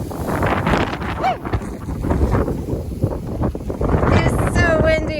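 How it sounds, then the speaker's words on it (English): Strong wind buffets the microphone outdoors on a farm during a potato harvest, a continuous loud rumbling roar with gusting swells and no voices. "it's so windy."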